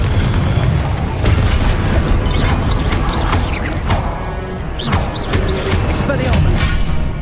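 Repeated blasting-curse explosions boom through a Hogwarts Legacy duel, heavy low-end impacts and crashes arriving in quick succession over busy combat noise, with a voice speaking over the fighting.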